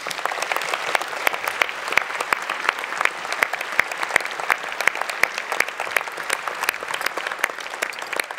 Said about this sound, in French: je vous demande de faire un tonnerre d'applaudissements à Vincent